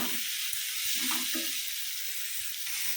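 Prawns frying in a pan for a prawn roast give a steady, close hiss of sizzling oil, with a few soft knocks of stirring underneath and no voices.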